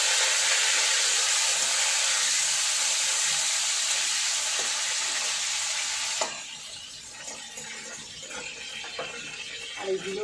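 Potatoes frying in hot oil fill the first six seconds with a loud, steady broadband sizzle, then the hiss drops back to a quieter crackle with occasional small pops and clinks.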